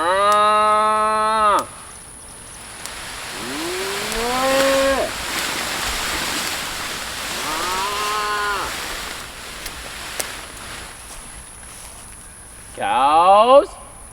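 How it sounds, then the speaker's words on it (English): Cows moo loudly and close by in a garden row where a mulberry tree is being pruned, with one long moo at the start and another at the end, and a person's voice calling in between. "Cows!"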